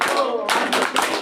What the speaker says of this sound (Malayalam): അങ്ങനെ ചെറിയ ക്ലാപ്പ് വേണ്ട, നമുക്ക് സ്കൗട്ട് ക്ലാപ്പ് കൊടുക്കാം